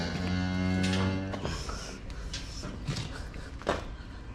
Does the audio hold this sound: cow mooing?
yes